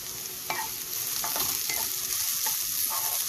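Crushed coconut and turmeric paste sautéing in a pan, a continuous bright sizzle with a few sharp stirring scrapes close by, no talking.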